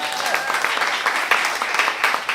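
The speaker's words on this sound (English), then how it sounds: "let's give my sisters another round of applause" An audience at a Black storytellers' performance gives a round of applause, a steady, moderately loud stream of clapping with brief faint tones in the background.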